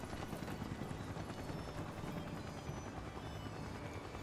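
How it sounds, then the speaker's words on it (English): A helicopter in Final Fantasy VII Rebirth gives off a continuous, even whirring drone that stays at the same level from start to finish, with no voices. "We're gonna see what this helicopter is all about."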